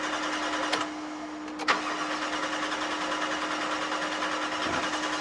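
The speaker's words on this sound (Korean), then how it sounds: "LPG가 앵꼬 상태고 지금 시동을 걸어볼게요" A Dodge Dakota pickup converted to run on LPG, with its gas tank nearly empty, cranks steadily on the starter without catching. The whirring is continuous and moderately loud, with two sharp clicks early on and no voices.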